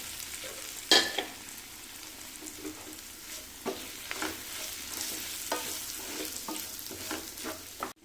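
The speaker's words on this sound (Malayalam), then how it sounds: "അതുകൊണ്ട് നന്നായിട്ടൊന്ന് വഴറ്റിയെടുക്കണം." A dates pickle mixture with chili powder, asafoetida and salt sautés in a pan, frying at a low, steady sizzle while a spoon scrapes and stirs at intervals, with a sharp clatter near the start. The sound is close, moderately quiet and free of speech.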